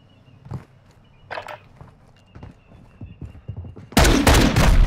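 A firefight in a first-person shooter video game: scattered soft footsteps and small clicks build to a sudden loud burst of rapid gunfire in the final second, close and harsh.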